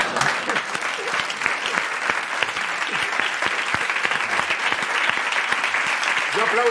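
A crowd claps steadily and continuously, a dense, even wash of applause that neither builds nor fades.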